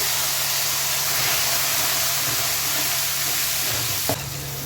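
About two spoonfuls of ginger garlic paste fry in hot oil, giving a loud, steady sizzling hiss that ends with a brief clink.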